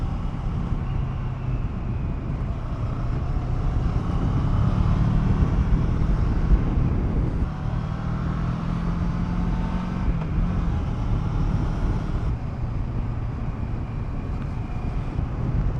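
A Kawasaki Versys 650 motorcycle rides along in third gear, its engine a steady, loud drone mixed with wind rush, no one speaking.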